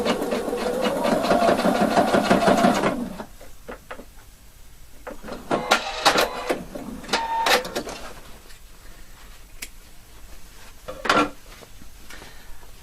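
A domestic sewing machine runs steadily for about three seconds while stitching the side seam of a skirt waistband with facing, then stops, leaving scattered soft handling clicks and rustles of fabric.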